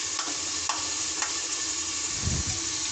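Masala spice paste fries and is stirred in a pan, a steady close sizzle with soft scraping strokes and a thicker churning burst near the end.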